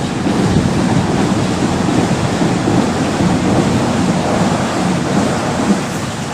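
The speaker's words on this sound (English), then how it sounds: "District line train." A London Underground District line train passes near the River Lea by Bromley-by-Bow, making a steady, loud broadband rumble that holds evenly for several seconds with no speech.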